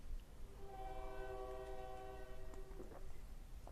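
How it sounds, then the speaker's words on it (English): A distant train rolls past with its horn sounding a long, steady multi-tone blast for several seconds, heard faintly over low rumbling background noise with no talk. "Yep, that was a train behind me."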